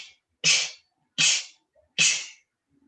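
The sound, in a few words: person sneezing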